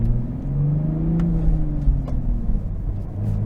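A 2023 Toyota Supra 3.0L with a manual gearbox revs between first and second gear, its engine note rising and falling in a loud, close, continuous run.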